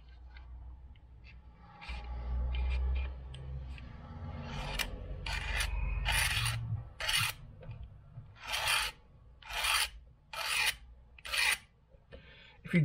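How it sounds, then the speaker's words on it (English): A burr is scraped off a plastic Jaguar XK8 side reflector lens with a blade. A low rumble comes first, then about seven sharp, close rasping strokes follow in a steady rhythm, with no talking. "So I'm just taking a burr off."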